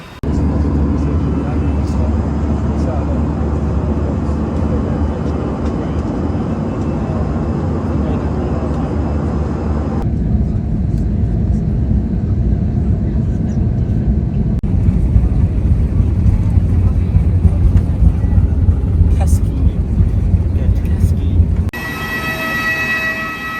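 Passenger airplane in flight, heard from inside the cabin as a loud, steady engine roar and rumble that shifts in tone partway through and cuts off near the end.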